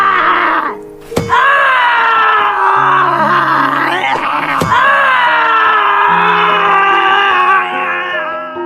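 A boy screams in agony as horseshoes are nailed into his feet, a loud sustained wail with two sharp hammer-like impacts cutting through it.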